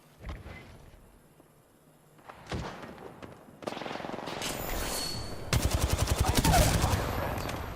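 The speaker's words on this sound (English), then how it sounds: "Opening fire on the enemy" Gunfire in the game Apex Legends begins with scattered single shots and thuds, then swells into sustained rapid automatic bursts, loud and close, that grow denser toward the end.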